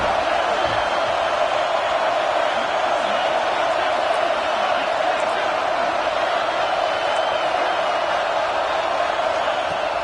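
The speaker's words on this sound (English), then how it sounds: "The Tide crowd roaring noise down on the Saban field on third down." A loud, continuous stadium crowd roar fills a college football video game on third down at a Crimson Tide home field, a dense steady wash of cheering with no breaks.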